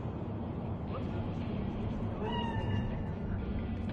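A cat meows within a Cyberpunk 2077 game scene, its brief, moderately loud cries rising over a steady, busy background murmur, with speech nearby.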